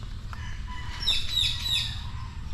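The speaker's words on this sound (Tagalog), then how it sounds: "Uy, black na manok." A black chicken at an exotic animal farm resort giving a few short, high clucking calls over a low rumble of background noise, fairly faint and brief, with no talk.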